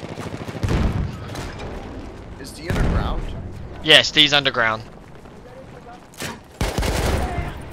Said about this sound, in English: I'm seeing a lot of gunfire on the right there.